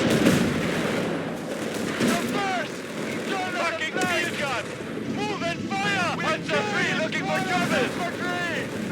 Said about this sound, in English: Enemy machine gun started on island!